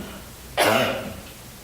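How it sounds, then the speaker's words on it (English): A single harsh cough with some throat clearing at a public board meeting, short and fairly close, standing alone with no talk. "I apologize to everyone for coughing the whole night."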